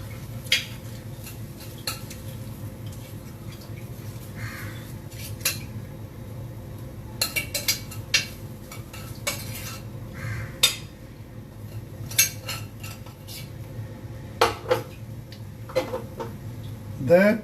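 Metal utensils clink and scrape against dishes and a pot while Maggi biryani is plated, with scattered clatters over a low steady background hum.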